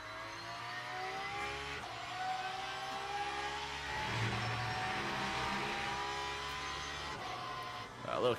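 GT3 race car engine in Le Mans Ultimate at Portimao, a steady mid-pitched drone that climbs and falls through the gears, close and continuous for the whole stretch, with a faint voice underneath.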